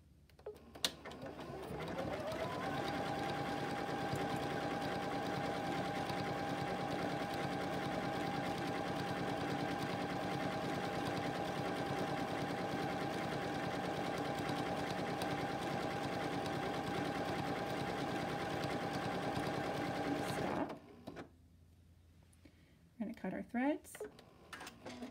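A Janome Continental M17 sewing machine stitches decorative stitches with a loud, steady mechanical whir for about twenty seconds, then stops abruptly, leaving a few faint handling clicks.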